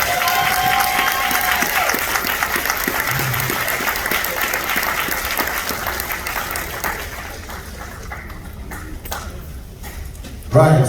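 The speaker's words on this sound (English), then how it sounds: "let me give them a big round of applause" A crowd claps and applauds steadily for several seconds, then the applause fades out to a quieter room.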